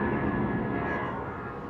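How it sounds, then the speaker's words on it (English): A small airplane passes overhead near an airport, heard as a loud, continuous engine drone with broadband rush that fades slightly toward the end. "the people plane just flying overhead. Look at that."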